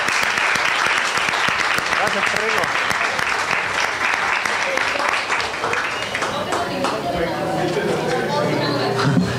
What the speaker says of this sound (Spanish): Un aplauso para que...